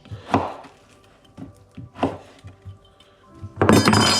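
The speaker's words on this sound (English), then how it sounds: "this fat, and I'm just chopping it into small pieces" A knife chops hard, set beef fat into small cubes with a handful of dull, spaced thunks, followed by a louder clattering burst at the end.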